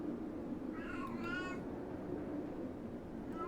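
A pet cat named Titi meows a few times, faint and somewhat distant, over a steady background hum with no talking.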